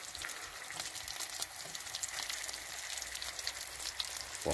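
Bacon and potato scones sizzle steadily in a hot pan at a riverside camp in Galloway Forest, Scotland, a close, continuous crackle and spit with no voices.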